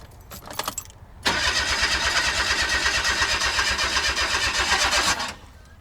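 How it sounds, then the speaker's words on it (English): Daihatsu Hijet kei truck engine cranking without starting after a fuel filter change, the starter churning in a steady rapid rhythm for about four seconds after a few clicks, close and loud. "go ahead and attempt to start the car"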